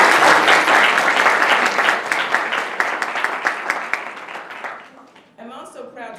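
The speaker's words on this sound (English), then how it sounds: "Give yourselves a round of applause" Faculty and staff at a college staff meeting break into dense clapping that starts loud and gradually thins into scattered claps, fading out before a voice resumes speaking near the end.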